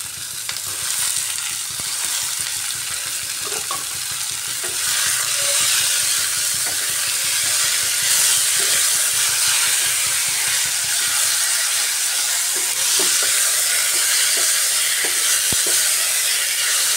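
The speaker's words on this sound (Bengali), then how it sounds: "এবারে এর মধ্যে দিয়ে দিচ্ছি কুচিয়ে রাখা টমেটো।" Chopped tomatoes hit a pan of frying chickpea and chicken ghugni, giving a steady, close sizzle and hiss with occasional stirring scrapes throughout, no voices.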